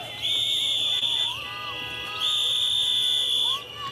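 Protesters blow a shrill whistle in two long sustained blasts, loud and close, with a brief gap between them and faint crowd noise underneath.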